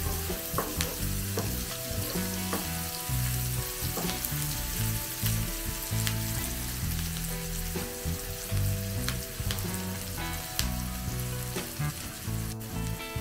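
Onions frying in a pan of oil while browning before tomato goes in for a Bengali prawn roast; a steady close sizzle runs throughout under busy background music with occasional stirring clinks.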